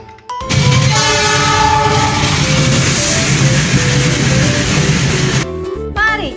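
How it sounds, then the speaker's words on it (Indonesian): A toy train plays its electronic sound effect close by, a loud steady chug with horn-like tones that runs for about five seconds before cutting off, followed by brief clicks. "Wadidaw, ada kereta api teman-teman."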